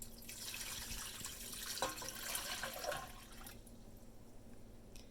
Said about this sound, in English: All right, adding 4 cups of water.